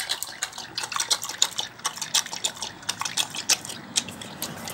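A dog laps water steadily from a full cooking pot, rapid wet slurping and splashing at close range in a quick repeating rhythm, with no talking.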